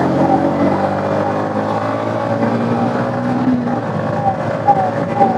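Yamaha MT motorcycles in a night drag race, engines droning loudly and continuously, with a rising and shifting whine as they speed along; no talking over it.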